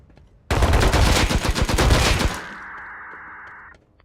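LMG machine gun fire in the video game Rust, a single loud, close, sustained burst of rapid shots lasting about two seconds, then a fading ringing tail.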